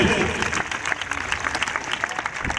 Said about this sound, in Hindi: बच्चों की हौसला अफजाई के लिए तालियां बजाएं प्लीज।